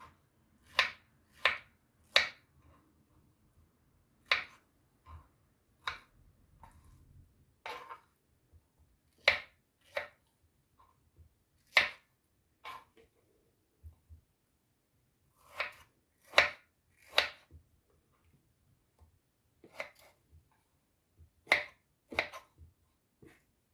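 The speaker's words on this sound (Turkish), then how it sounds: "Şeftalilerimizi şu şekilde doğruyoruz. Küp küp." A knife chopping peaches into cubes strikes a cutting board in quick, crisp chops, coming in short bursts of two or three with pauses between, close and clear against near silence.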